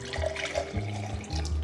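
Water poured back into a bottle, a continuous splashing, trickling flow with brief gurgling surges, close and fairly loud with no talk.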